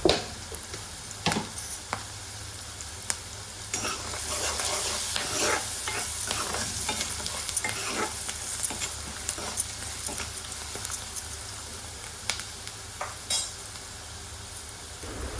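Onions sizzle and fry steadily in a pan while a spoon stirs them, with scraping and clinking taps scattered across the continuous sizzle, all close and without talk.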